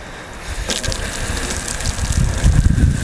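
A hose sprays water hard against a truck hood, a Chevrolet Silverado, starting abruptly and gushing steadily, loud and close, with no one speaking.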